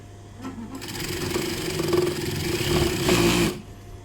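A sewing machine stitching a trouser hem whirs up and runs at a steady, fast pace for about three seconds, then stops abruptly, close and fairly loud.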